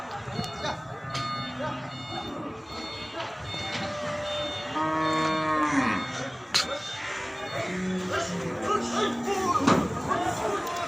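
Several cattle at a cattle market low with long, drawn-out moos that overlap one another, fairly close, while people talk in the background.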